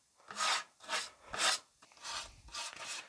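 Rough plywood edges being smoothed by hand with a scraping tool, five or six short raspy strokes in a steady rhythm, close and fairly quiet with brief pauses between them.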